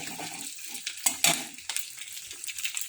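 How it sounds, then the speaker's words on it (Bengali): Food fries in a pan with soft sizzling and a few sharp stirring scrapes and clinks, close but fairly quiet. "কিন্তু আমি একটু ফ্রাই করি, ফ্রাই করলে মানে ভালো লাগে খেতে।"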